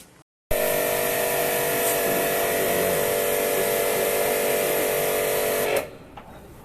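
A motor-driven pressure pump for air conditioner servicing runs steadily with a loud, continuous hiss and hum after a brief start, then cuts off near the end.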